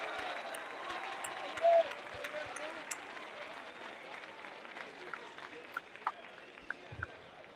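Audience applause at a Black History Month awards event in a church hall, steady and fairly distant, with scattered louder claps and a few voices over the clapping.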